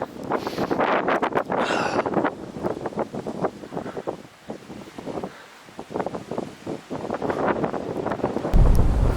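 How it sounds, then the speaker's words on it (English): Strong gusty wind on a hilly heritage trail in Henley-in-Arden buffets the microphone in uneven bursts, roaring and rumbling with brief calmer moments. "Hopefully you can hear me because it's quite a windy day today"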